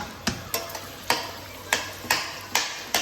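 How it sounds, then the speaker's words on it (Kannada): Three chopped onions fry in a pan toward a dark colour, giving a soft, steady sizzle broken by regular sharp clicks of a utensil tapping and stirring. "ಇದು ಫುಲ್ಲು ಕರಿಬಣ್ಣ ಬರಬೇಕು, ಅಲ್ಲಿವರೆಗೂ ಫ್ರೈ ಮಾಡ್ಕೊತೀನಿ"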